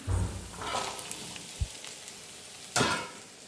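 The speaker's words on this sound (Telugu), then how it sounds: "చూడండి, గోరుచిక్కులు వేసేస్తున్నాను." Cluster beans drop into hot oil in a pan, setting off a bright crackling sizzle with a few louder bursts as they land.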